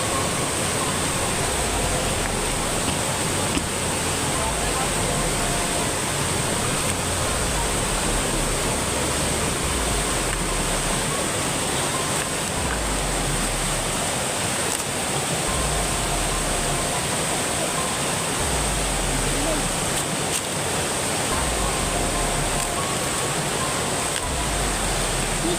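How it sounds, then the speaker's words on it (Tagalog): Flowing water rushes steadily and loudly for the whole stretch, a dense continuous roar like a torrent or cascade, with no pause and no clear voices above it. "ito yung tubig, no?"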